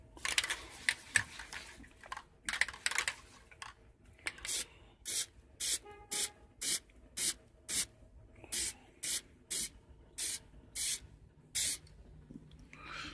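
Aerosol cans of Plastidip spray a final thick coat onto a Mini, heard as a long run of short, regular hissing bursts with brief gaps between them, close and fairly loud, after some rougher handling noise at the start.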